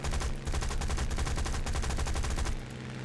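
Aircraft guns firing in War Thunder, a dense rapid burst of machine-gun fire that runs continuously for over two seconds, loud and close, then cuts off to a quieter engine-like drone.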